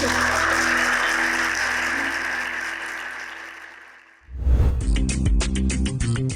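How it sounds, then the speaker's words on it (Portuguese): Audience at the Brasília Festival of Brazilian Cinema applauds in a broad, continuous wash that gradually fades before music abruptly takes over. "Aplausos."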